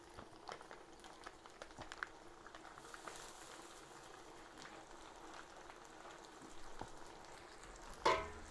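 Tomato sauce sautéing in a pan for a Filipino dish: a faint, steady bubbling sizzle runs throughout, with a few soft clinks and a louder clatter near the end.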